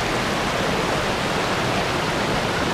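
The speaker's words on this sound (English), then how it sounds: "Look how amazing this waterfall is." A waterfall in Rocky Mountain National Park roars in a steady, loud, broadband rush of falling water that fills the whole moment with constant white-noise texture and no voices.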